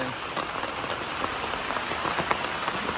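Steady rain falls outdoors while water spinach is being picked, a dense even patter of drops on surfaces with no pauses, fairly loud and close.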